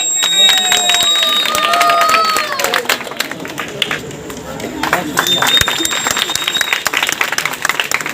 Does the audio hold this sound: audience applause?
yes